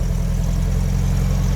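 A custom Karmann Ghia convertible's engine runs close and loud, a steady low throbbing idle with an even rumble and no pauses.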